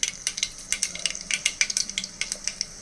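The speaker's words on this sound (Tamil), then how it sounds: "கடுகு பொரியிறது." Mustard seeds and urad dal spluttering in hot oil in a pressure cooker, a rapid irregular run of sharp popping crackles over a low sizzle, close and fairly loud.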